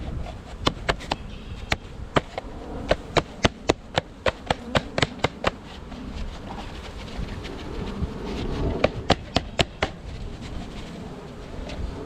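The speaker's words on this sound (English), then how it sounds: "I think that's about 3 pounds of bees." A steady low hum of about 3 pounds of honey bees fills the air throughout, punctuated by a rapid series of sharp taps and knocks close to the microphone.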